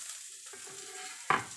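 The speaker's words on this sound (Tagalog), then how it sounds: "Kulang ako ng konti guys na mantika. At iluluto natin itong sibuyas." Onion frying in oil in a home kitchen makes a short, soft sizzle, with a sharper burst of crackle near the end.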